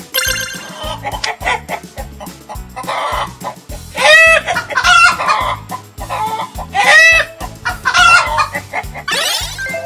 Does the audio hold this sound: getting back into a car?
no